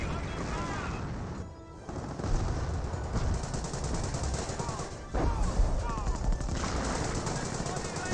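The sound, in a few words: artillery and gunfire in video game Company of Heroes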